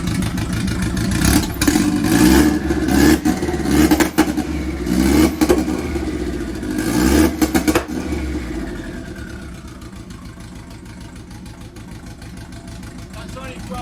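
An MK1 Ford Fiesta engine revs repeatedly up to about 2400 RPM and won't climb higher, surging and dropping in several bursts before settling to a steadier idle, with someone talking over it.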